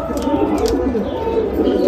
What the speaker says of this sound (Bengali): খুব দারুণ দারুণ পায়রা